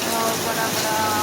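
Heavy wind-driven rain with hail pours down in Delhi, India, as a dense, steady roar of drops that stays loud and unbroken from start to finish.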